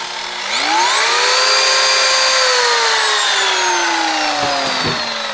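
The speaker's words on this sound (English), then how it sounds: "Time to bring in the pad washer. Clean the pad again." A pad washer spins up to clean a rotary polisher pad, its motor whine rising quickly and then holding a loud, steady tone that slowly drops in pitch, with a couple of brief knocks near the end.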